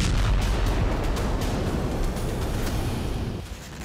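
Loud, continuous rumbling roar of explosions from a drone attack on a thermal power plant in Moscow, dense low booming that holds steady and then fades slightly near the end, with no talking.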